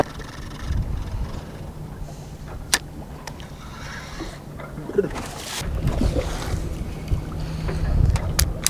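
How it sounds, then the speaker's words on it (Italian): Strong wind gusts and rumbles across the microphone at sea during night squid fishing from a boat, a rough, constant roar with occasional sharp knocks and swells of louder buffeting. "sta entrando un vento pauroso"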